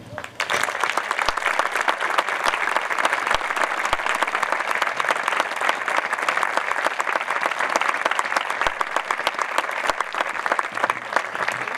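Loud, dense applause from a concert audience after a band's performance, sustained and even for about twelve seconds with a few sharp claps standing out.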